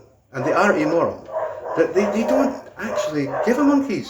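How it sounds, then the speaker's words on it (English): Dogs bark intermittently in the background beneath a man's continuous close speech, the yaps faint and partly masked by his voice. "Sorry about the dogs."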